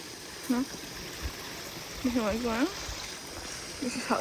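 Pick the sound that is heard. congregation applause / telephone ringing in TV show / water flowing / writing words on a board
water flowing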